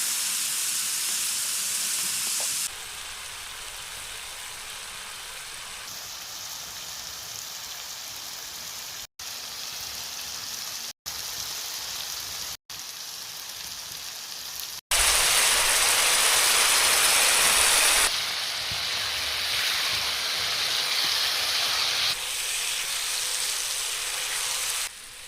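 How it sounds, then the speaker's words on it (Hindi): Boiled eggs scored with a knife fry in spices in a pan over a traditional wood stove. A steady close sizzling hiss carries throughout, with a few brief breaks, then swells louder and harsher partway through. "तो थोड़ा सा मैं अंडों को भून रही हूँ मसालों में"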